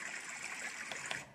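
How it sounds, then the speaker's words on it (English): A babbling brook track plays from a sound machine as steady close trickling, gurgling water with small splashy accents, continuous and unaccompanied by voices. "brook"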